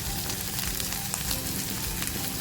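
Onion and spring onion frying in a pan for prawn chilli, a dense, even sizzle, close and continuous throughout.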